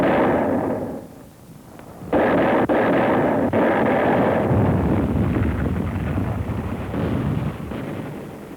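WW2 artillery fire supported by tanks on Okinawa, heavy rumbling booms and blasts over a continuous roar of wind-like noise from an old archive recording, with no voice.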